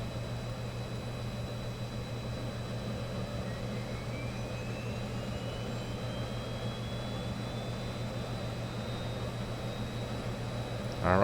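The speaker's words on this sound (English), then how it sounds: "All right, and now let's go ahead and start the right engine" The right engine of an Embraer 110 starts in the X-Plane 10 flight simulator: a steady droning hum with a faint tone slowly rising as the engine spools up, ending in a short louder burst.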